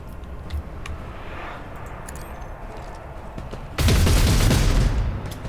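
Gunfire in the Warhammer 40k Rogue Trader video game: a sudden loud, dense burst of shots erupts after a quiet stretch of ambient game sound and sustains for over a second before easing off.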